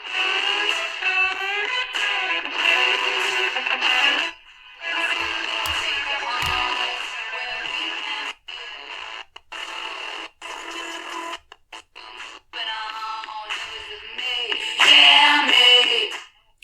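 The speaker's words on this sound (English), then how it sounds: "let's go to a rock and roll station at 103." A Tecsun PL-200 portable radio plays a rock station on FM, with tinny, band-limited music that drops out into brief gaps and crackles as the signal fades in and out.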